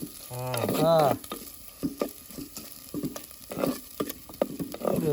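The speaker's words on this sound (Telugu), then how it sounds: "ఇక ఉల్లిపాయలు ఇప్పుడు వేస్తున్నాను" Onions sizzle and crackle in hot oil in a pan while an Andhra-style Korameenu fish curry is cooked. Frying noise and scraping stirs run throughout, and a voice is heard briefly near the start.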